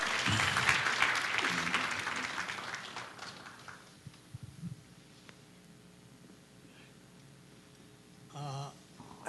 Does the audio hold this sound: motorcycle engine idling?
no